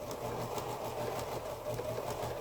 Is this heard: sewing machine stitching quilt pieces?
yes